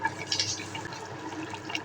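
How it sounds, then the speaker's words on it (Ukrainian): A thick pickle soup mixture for winter canning bubbles as it boils in a pot, soft irregular popping and gurgling heard close and fairly quiet. "Маса наша, дивіться, як гарно закипіла, добренько булькає."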